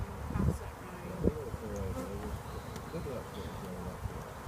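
Honey bees buzz on frames during a nucleus hive transfer, many young bees just emerged, giving a faint, continuous drone with small knocks of handling nearby.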